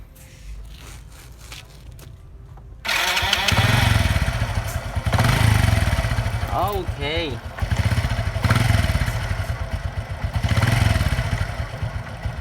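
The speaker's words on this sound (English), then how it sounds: "Let us start the engine." A Honda motorcycle engine starts after a quiet stretch of workshop sounds, catches with a burst and settles into a rough, pulsing idle with throttle blips, heard nearby. Brief speech comes before the start.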